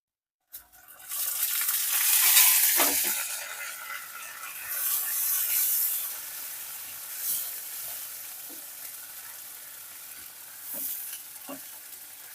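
Ground cumin paste thinned with a little water being stirred in a pan, heard as a close, wet sizzle that bursts loud at first and then eases, with soft scraping strokes and occasional ticks of the spoon against metal.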